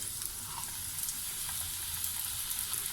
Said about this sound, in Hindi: ऑयल गरम हो जाए तो फिर हम इनको फ्राई कर लेंगे।